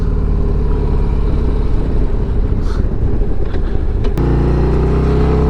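A 2023 Harley-Davidson Street Glide ST motorcycle with a 117 cubic inch engine rumbles steadily and loudly up close, a continuous deep engine drone with a brief sharper change near the end.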